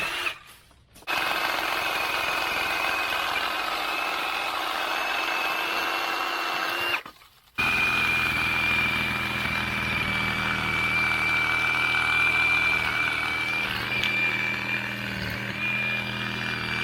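A Ryobi One+ HP 18V cordless reciprocating saw runs loud and steady through a cut, with two brief pauses where the motor stops before it starts up again. The whine continues without talk.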